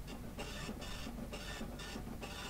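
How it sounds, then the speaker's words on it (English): A printer machine in the video game Borderlands The Pre-Sequel runs with a rhythmic mechanical hum, five evenly spaced pulsing surges over a steady low drone, fairly quiet and with no talk. "this is the best printer ever"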